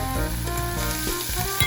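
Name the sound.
beef brisket stir-frying in a hot pot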